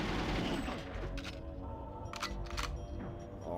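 Rapid bursts of gunfire in the N64 shooter GoldenEye 007, several sharp cracks landing in quick clusters with booming echoes, fairly close and loud with no talk over them.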